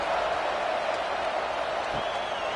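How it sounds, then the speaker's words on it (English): Stadium crowd at a college football game, Montana State at Oregon, keeping up a steady, loud roar of cheering and applause after a touchdown. "this crowd is buzzing after that last score"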